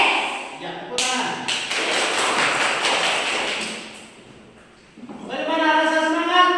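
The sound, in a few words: children clapping hands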